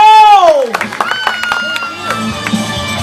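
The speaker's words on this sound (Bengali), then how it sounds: "জোরে একটা হাততালি হবে" A falling tone gives way to scattered, uneven clapping from a small comedy show audience, with voices mixed in.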